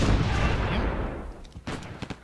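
An artillery bombardment in Civilization III opens with a heavy, booming blast that rumbles and fades, followed by a few sharper impact cracks near the end.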